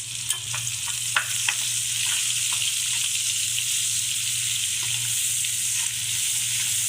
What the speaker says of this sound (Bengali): এলাচ দারচিনিটা পেঁয়াজের সাথে ভেজে নিব।